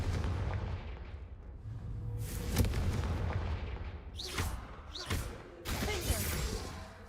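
Booming blasts from the Confringo spell in the Hogwarts Legacy video game go off several times with whooshing impacts and crashes. They sit over a low rumble of game sound and grow louder and sharper toward the end.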